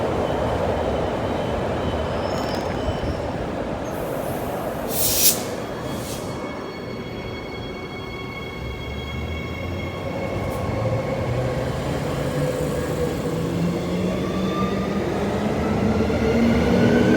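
A Transperth MAN B-series electric train pulls out of Canning Bridge station, motors whining up in rising tones as the wheels rumble and clatter close by, loud and steady, with a brief sharp clunk early on.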